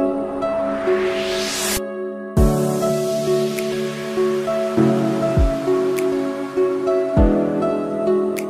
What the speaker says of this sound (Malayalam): കനത്ത മഴയിൽ വെങ്ങര